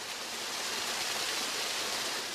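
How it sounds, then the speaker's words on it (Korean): An artificial waterfall beside a hospital gives a steady, even rush of falling water that fills the whole stretch without pause, fairly close and with no voices. "짧은 시간 병원의 인공폭포 곁에 앉아 있었을 뿐이다"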